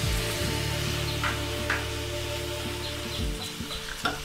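Tomato puree hits a pan of nearly fried onions for a cabbage kofta curry, giving a steady sizzle with crackling and stirring scrapes, no voices over it.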